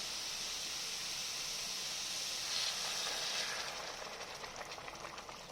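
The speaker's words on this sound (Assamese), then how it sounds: "আৰু তৰকাৰীখিনি মই ভালকৈ উতলিবলৈ দিম, অকণমান ভালকৈ ফুটিবলৈ দিম" Fish curry bubbling hard on a high flame, a soft continuous steamy hiss that swells midway and then settles into a faint rapid crackle of boiling, with no voices.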